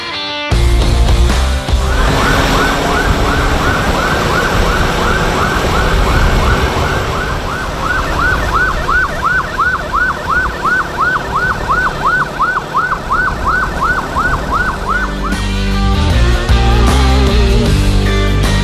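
An escorting ambulance siren wails in a fast repeating cycle for a long stretch on a Jakarta road, loud and close over rumbling traffic and motor noise.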